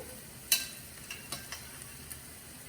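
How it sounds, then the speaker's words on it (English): A soft, steady sizzle of pork chops frying in a pan, with a few sharp ticks and clicks scattered throughout. "let's listen for that sizzle. Hear that? That's a good sound."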